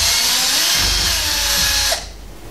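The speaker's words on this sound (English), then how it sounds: "I'm using a power drill with a Phillips head attachment." A power drill with a Phillips head bit whirs steadily and loudly for about two seconds while backing screws out of the back plate of a Navigator speed controller top box, then stops abruptly.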